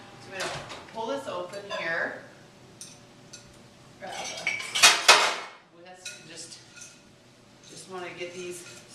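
A metal whisk and pan clink and clatter in a kitchen while chocolate is set to melt, with scattered bright taps and knocks between and under a person speaking close by.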